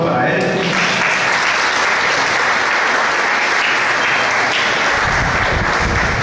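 Sustained applause from a church congregation at a Catholic zonal gathering, greeting a priest with broad, steady clapping that stays loud throughout, with a few voices mixed in.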